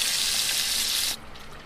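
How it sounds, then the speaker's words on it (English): Heavy cream poured into a hot pan of vegetables for jerk pasta, a loud steady hiss and sizzle that cuts off abruptly and leaves a faint, quieter sizzle. "I'm adding the cream"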